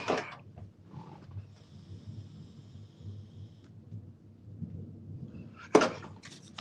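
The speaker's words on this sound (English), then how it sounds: "Y'all hear that thunder?" Thunder during rain: a faint, distant low rumble rolls through a quiet indoor space, with a sharper thump near the end.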